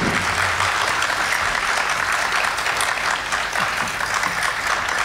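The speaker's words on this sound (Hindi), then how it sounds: "एक बार और जोरदार तालियां हो जाएंगी।" Loud, dense applause from an audience at a live classical dance and music festival, sustained and even throughout, with no talk over it.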